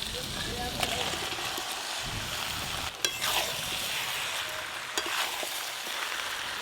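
Hilsa fish heads sauté with spices in a pan in a village home kitchen, giving a steady close sizzle with occasional scraping knocks from stirring. Voices talk over it.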